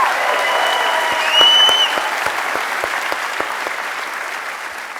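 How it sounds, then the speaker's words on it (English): An audience at the Reagan Library bursts into loud, dense clapping that swells early and then slowly thins, with a few sharper claps standing out. "Let's have an applause for that,"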